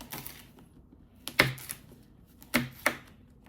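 A knife slices through hot peppers on a cutting board, a few sharp, separate cuts against a quiet background.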